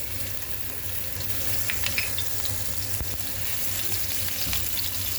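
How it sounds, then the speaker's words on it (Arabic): Garlic frying in a hot pan for a pasta vegetable mix, a steady fine sizzle with faint crackles and a soft knock partway through. "وهاجي هنا في طاسه سخنه هجهز الخضار بتاع المكرونه. هنزل اول حاجه بشويه من الثوم"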